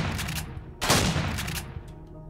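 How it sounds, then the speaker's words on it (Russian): Shotgun blasts in the space survival game Empyrion Galactic Survival during a base assault: a loud broadband boom followed by a second, softer report, with no talking. "Дробовичок."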